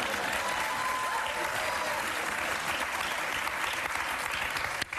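A political audience cheers and applauds steadily and loudly for the full stretch, a dense continuous roar of clapping and voices with no pauses.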